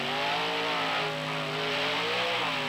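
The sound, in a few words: Grave Digger monster truck racing engines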